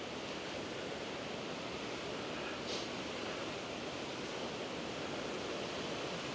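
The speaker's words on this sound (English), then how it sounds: "You can hear the water." Steady broadband rush of water flowing along a leat at Kennall Vale gunpowder works in Cornwall, continuous and even throughout, with no voices or other distinct sounds.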